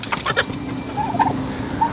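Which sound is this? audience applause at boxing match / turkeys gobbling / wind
turkeys gobbling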